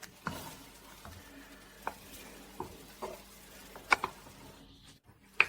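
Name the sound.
stirring foamy homemade apple cider vinegar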